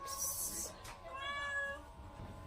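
A cat meows once, a drawn-out rising and falling cry, close by, with a faint steady hum behind it.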